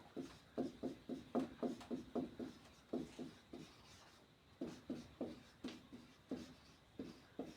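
A pen writes quickly on paper in close, soft scratchy strokes, forming bursts of short rhythmic scribbles separated by brief pauses, with no talking.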